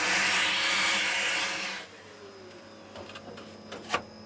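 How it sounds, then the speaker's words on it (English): A workshop vacuum cleaner roars steadily for nearly two seconds, then cuts off, leaving a quieter hum with a few faint clicks and knocks. "and get the vacuum cleaner on it."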